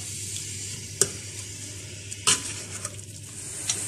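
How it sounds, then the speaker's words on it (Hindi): Onions fry in a cup of oil until light golden for palak gosht, a continuous close sizzle broken by a few sharp clinks of a spoon stirring against the pot. "प्याज को इसमें लाइट गोल्डन होने तक मैं इसको फ्राई करूंगी।"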